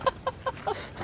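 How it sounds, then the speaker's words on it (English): Birds calling outdoors: about five short, harmonic clucking calls spaced roughly evenly, fairly close and clear over faint background noise. "but I do hear some birds"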